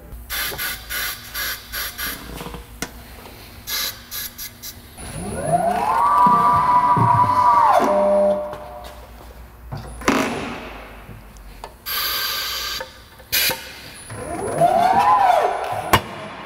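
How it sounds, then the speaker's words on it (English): A tire changing machine works a low-profile tire off a wheel: clanks and clicks, then a motor winding up and straining loudly in two long bursts, with scattered mechanical knocks between. "Tire machine was working on that one, that's for sure."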